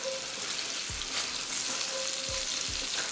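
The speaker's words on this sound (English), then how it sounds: "put that garlic in that same pan and start to sear that up a little bit" Garlic searing in a pan with olive oil, right after steak was cooked in it: a continuous close hiss and sizzle with a few soft low bumps.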